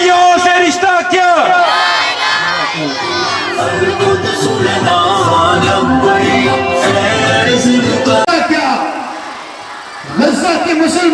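A large protest crowd outside a press club roars chanted slogans back in unison, loud and sustained, in a demonstration against Israel, with a lead voice calling out between the responses.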